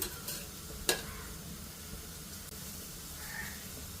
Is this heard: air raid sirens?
no